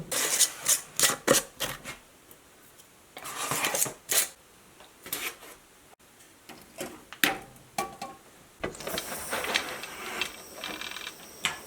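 Glass jars of salmon set into a metal pressure canner, a string of clinks, knocks and scrapes in uneven bursts, followed by a steady rushing hiss near the end.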